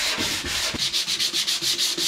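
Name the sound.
sanding a carbon composite battery cover mold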